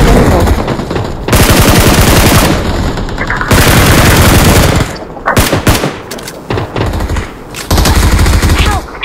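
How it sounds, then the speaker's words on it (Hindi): Loud, sustained machine gun bursts in the BGMI mobile battle royale game, rattling rapid-fire in long volleys with brief gaps and a few choppier stretches toward the end. "मशीन गन खाओ"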